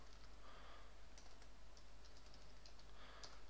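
Faint computer keyboard typing, a short run of light keystrokes clicking in bursts while a new folder is renamed, quiet against a steady low hum.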